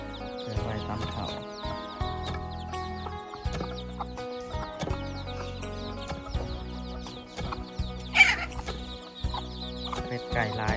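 Chickens cluck among the bamboo houses of a rural Lao village, mixed with other farm sounds: steady clucking with scattered calls, a sharper burst partway through, and no voices.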